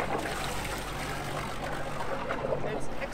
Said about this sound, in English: the loudest noise left is actually the gurgle of the exhaust coming out